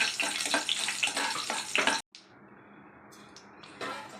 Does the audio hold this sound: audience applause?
no